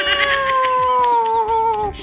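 A female kitten gives one drawn-out, close, loud meow that slowly falls in pitch and wavers for about two seconds, alone with no talk.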